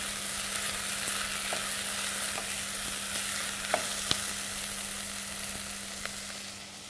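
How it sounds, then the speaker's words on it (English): Onion frying in a pan while being stirred, with a continuous, fairly quiet sizzling hiss broken by occasional soft scrapes and taps of the spoon against the pan. "You keep on stirring until the onion turns"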